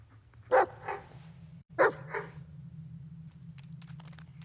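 A dog in the Blair Witch video game gives two sharp barks about a second apart over a low, steady background drone.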